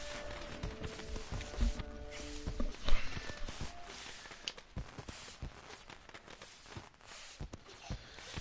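Horse hooves clip-clop in The Witcher 3: Wild Hunt on PS4. The uneven, moderately loud hoofbeats mix with faint rustling and ambient game sound, with no speech.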